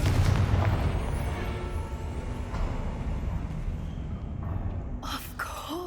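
A Confringo fire blast in Hogwarts Legacy bursts with a deep, rumbling explosion that rolls and fades over several seconds, followed near the end by a few sharp, bright crackling hits.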